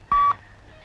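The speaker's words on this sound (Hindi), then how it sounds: "ए पीढ़ी, गेस्ट हाउस को फोन करो" A single short telephone dialing tone, one clean beep lasting a fraction of a second, loud and close, followed by quiet.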